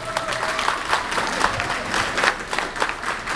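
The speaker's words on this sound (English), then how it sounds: "Everybody give her a round of applause." A small crowd claps for a salon assistant at a hair salon grand opening in Leesburg, with uneven, moderately loud applause and some murmuring.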